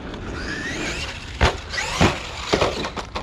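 A Traxxas E-Revo 2.0 RC truck drives past, its electric motor whining and rising in pitch while a few hard thumps and clatters from bumps and landings punctuate the run, at moderate distance.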